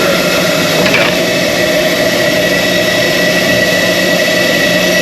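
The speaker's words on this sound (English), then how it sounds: "So there's a blower." A powerful air blower roars steadily while clearing an RV roof panel during construction of a Rockwood/Flagstaff RV, a loud, constant, broadband rush with no pause and no talk.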